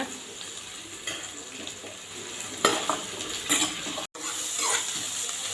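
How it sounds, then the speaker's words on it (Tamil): Green chillies and shallots frying on medium flame, a continuous close sizzle with scraping stir strokes of a spoon in the pan, one brief dropout near the end, no talk. "மீடியம் ஃப்ளேமில் வச்சு இதை நல்லா கிண்டி விட்டுக்கோங்க"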